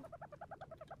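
Dodo bird in the survival video game ARK Survival Evolved clucking in a steady series of short, repeated calls, close and fairly loud, with no talking over it.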